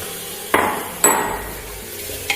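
Beef stirred into a spice masala in a pan for Kerala-style beef roast, heard as three sharp metallic clanks of a spoon against the pan, spaced apart, with no talking.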